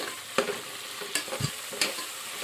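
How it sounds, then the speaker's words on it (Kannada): Tomato and curry leaves fry in hot oil with a soft continuous sizzle, broken by a few sharp clicks of a spoon stirring against the pan. "ಇದಕ್ಕೆ ನಾವು ಸ್ವಲ್ಪ ಇವಾಗ ಫ್ರೈ ಮಾಡ್ಕೊತೀನಿ ರೀ ಚೆಂದಾಗಿ"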